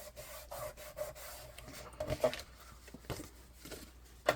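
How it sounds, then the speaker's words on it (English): Soft, faint rubbing and scraping as glue is burnished down on paper for a crafted shaker album, with a few light taps and patters in a quiet room. "I'm going to burnish out my glue."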